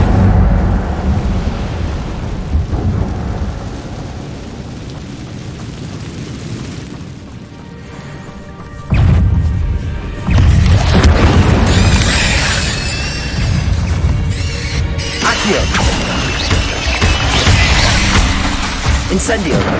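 A fire spell in the Hogwarts Legacy video game lets out bursts of booming, crackling flame. Heavy rumbling impacts follow among other game effects, and a voice speaks briefly over them.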